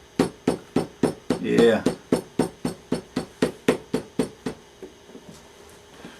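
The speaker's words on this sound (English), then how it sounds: "Probably just need to hit it with a hammer a little bit" Steady hammer taps on metal during saddle making, about fifteen evenly spaced strikes that fade slightly toward the end, with a brief spoken word partway through.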